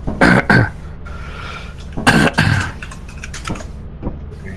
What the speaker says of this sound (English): What is this guy typing in,